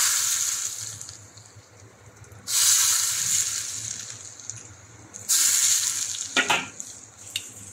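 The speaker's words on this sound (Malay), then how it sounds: "Sekarang kita nak bancuh dengan minyak panas." Hot oil, reused from frying fish, poured over garlic and chili hits with a loud crackling sizzle in two bursts, then settles into a steady hiss and bubbling, close up with no talking.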